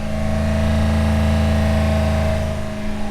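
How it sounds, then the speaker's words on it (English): A 2016 Ram 1500 Rebel pickup engine runs at a steady raised rev during a SeaFoam engine treatment, a loud, continuous drone with a stable hum and no talking. "so we revved the engine for probably 3-4 minutes"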